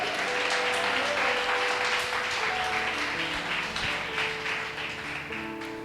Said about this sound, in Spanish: si le va a aplaudir, apláudale fuerte al Señor.